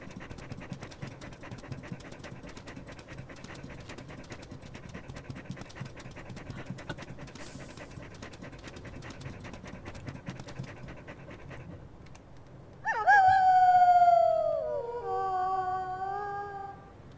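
Dogs in the WolfQuest Anniversary Edition game pant steadily for about twelve seconds, then a loud wavering howl rises and slides down, followed by fainter overlapping howls near the end.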